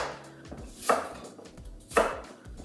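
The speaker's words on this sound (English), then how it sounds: "now we just want to chop them into sort of like roughly 2 centimetre cubes" A knife cuts peeled apples into rough cubes on a board, two distinct chops about a second apart, close and fairly quiet against a soft kitchen background.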